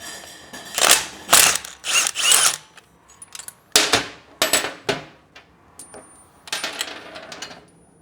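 Metal wrench works loose the stock exhaust parts on a 2024 Triumph Bonneville Bobber motorcycle, giving a series of sharp metallic clinks and ratcheting clicks in irregular bursts with quiet gaps between them.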